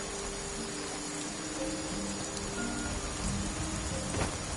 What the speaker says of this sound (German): Mit dem Regen noch stimmungsvoller irgendwie.